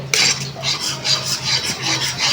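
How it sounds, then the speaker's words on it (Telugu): Gram flour being stirred into hot oil in a pan for laddu, a steady rasping, scraping stir with rhythmic strokes, close and fairly loud, with no voices. "ఈ విధంగా ఆయిల్లో పోసుకొని మంచిగా కలుపుకోవాలి"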